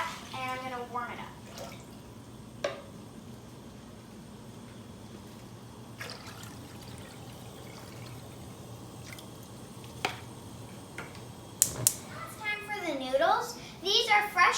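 Hot roasted pork bone broth for tonkotsu ramen is poured into a pot, making a steady wet splashing and trickling. A few louder clatters and bursts come toward the end.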